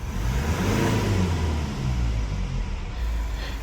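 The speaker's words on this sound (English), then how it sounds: "Now let me rev the engine real quick to 3000 rpm" A Mazda CX-5 engine revs up to about 3000 rpm, a steady low rumbling drone that holds loud and close throughout, with no voices over it.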